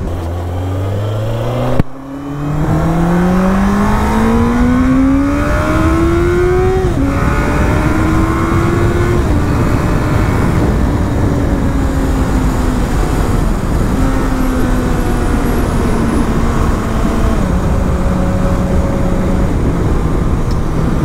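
A 2002 Honda CBR 954RR sport motorcycle engine revs up through rising gears, loud and close, with a steady climbing whine sustained for about twenty seconds after a brief dip near the start.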